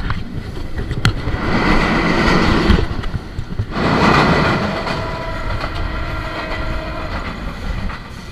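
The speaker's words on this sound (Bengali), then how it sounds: "টাঙ্গাইল রেল স্টেশন থেকে ছেড়ে এসে মির্জাপুর রেল স্টেশনে প্রবেশ করার সাথে সাথেই কাঙ্ক্ষিত ট্রেনটি একটি কোচিংয়ে পড়ে গেল।" Silk City Express passenger train running on rails near Mirzapur station, a loud continuous rumble and clatter of wheels with swelling waves of roar as coaches pass close by.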